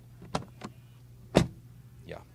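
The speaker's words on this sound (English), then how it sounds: "open it like this with the keyless entry and door closing sound" An SUV door on a BMW or Audi is opened with keyless entry and shut: a few sharp clicks and latch sounds, then one solid close thump, near and distinct over a low hum.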